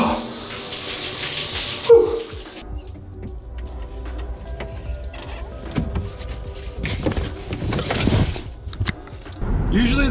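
A shower runs with a continuous hiss of spraying water, broken by a few louder splashes and clatters, and a voice is briefly heard.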